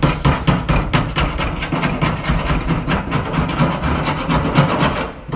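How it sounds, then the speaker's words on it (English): Old weather stripping is scraped off a 1969 Road Runner in quick, repeated rasping strokes that run continuously, close and fairly loud, with no voices. "Getting some of this old weather stripping off too."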